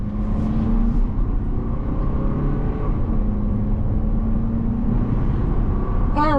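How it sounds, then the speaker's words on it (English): A 2023 Toyota Highlander XLE all-wheel-drive SUV driving down the road, heard as a steady low engine and road rumble from inside the cabin, constant and fairly loud with no talking. "we are heading down the road in this 2023 Toyota Highlander XLE all-wheel drive"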